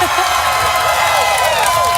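Loud, dense crowd cheering and whooping in a TV studio audience, a continuous roar of excited voices with shouts throughout.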